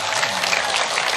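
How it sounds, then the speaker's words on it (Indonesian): Audience applause at a public gathering, a dense steady patter of clapping hands from a crowd, brief and even. "Tepuk tangan tuh NU dan Muhammadiyah."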